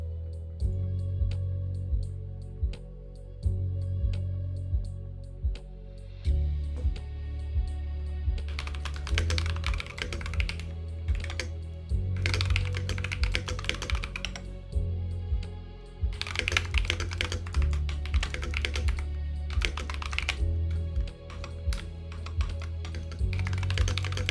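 Typing on a computer keyboard: fast, clattering bursts of key clicks come in several separate runs, close and clear, over a steady low hum of background tones, with no talking.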